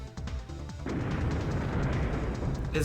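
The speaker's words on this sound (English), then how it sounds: "His tail whip, which causes explosions." Explosive bursts from a Digimon's tail whip attack in the video game Digimon World 3, a dense run of booming blasts that swells after the first second and keeps a loud, continuous crackling rumble to the end.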